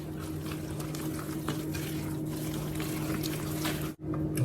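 Water trickling and splashing as it is added a little at a time into pancake batter, a steady soft liquid wash with a low kitchen hum beneath and a brief dropout near the end.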